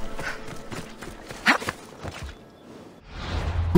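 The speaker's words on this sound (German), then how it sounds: "Da ist mein Pferd, da ist mein Pferd." Horse hooves clip-clopping in the Assassin's Creed Odyssey video game, a brisk run of soft hoofbeats with a few whooshes and a louder thump midway, then a short quiet gap before steady game noise resumes.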